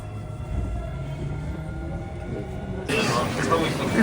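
A metro train at Namba station in Osaka rumbles steadily with low mechanical drone, then a louder rush of noise as the train passes or doors open, all close and busy amid crowd ambience.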